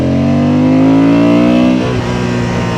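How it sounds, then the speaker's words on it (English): A 92-horsepower 2025 Honda Transalp engine revs under sudden throttle, rising into a loud, close, harmonic-rich whine that climbs steadily before easing off after about two seconds. "I just pulled the throttle there"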